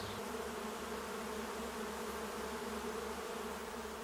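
Bees and other insects hum continuously among flowers, a steady layered buzzing drone with no break and no talking.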